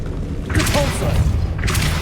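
A Depulso spell cast in the Hogwarts Legacy video game lands as a loud, booming whoosh. The burst swells midway and rumbles on to the end, with a brief vocal-like element mixed in.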